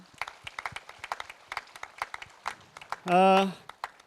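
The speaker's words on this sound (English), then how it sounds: "can we sort of reduce the amount of intimidation by a round of applause?" Scattered claps from an audience at a policy dialogue event, individual sharp hand claps in a sparse, uneven rhythm, fairly near, with a brief tonal voice-like sound partway through.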